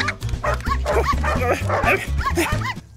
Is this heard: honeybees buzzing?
no